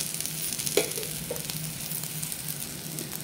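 Ground masala paste sizzles and fries steadily in a pan for misal pav, with a few stirring scrapes over a constant hiss.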